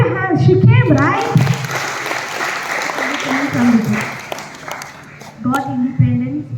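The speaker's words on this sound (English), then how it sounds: "You can clap your hands." An audience at an English speech event claps its hands in a dense, sustained patter that swells and fades, while a speaker's voice and a voice talk over it.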